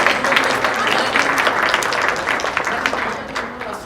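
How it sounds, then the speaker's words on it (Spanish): A church congregation claps together through a welcoming moment, a broad, even wash of applause that tapers slightly toward the end, with some voices audible underneath. "les damos un aplauso a todos los que"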